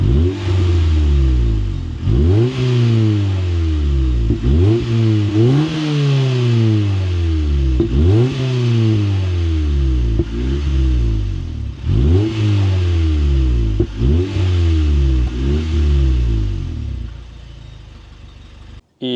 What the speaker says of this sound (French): Je vous mets une vidéo du pot duplex juste avant.